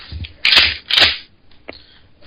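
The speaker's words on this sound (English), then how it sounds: "This is the sound of me loading a shotgun." Shells are loaded into a Mossberg 500 pump shotgun up close: two loud metallic clacks about half a second apart, then a smaller click, in a quiet room.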